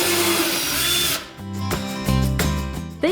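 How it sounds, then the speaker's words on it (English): A power drill boring two holes through the top of a thrifted tray or sign, clamped in place, the motor whirring steadily then stopping and restarting in short loud bursts close by. "drilled 2 holes at the top"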